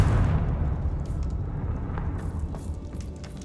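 A Confringo spell blast in the video game Hogwarts Legacy starts as a loud, deep explosive boom and then fades into a rumbling decay. Faint crackles and light pops flicker through the tail.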